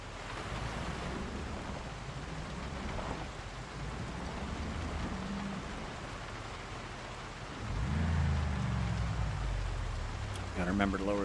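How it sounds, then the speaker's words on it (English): Steady, dense rain hiss from Project Zomboid washes over the whole stretch, swelling louder and heavier near the end, with a voice talking over it. "Well, that's some effective rain, isn't it?"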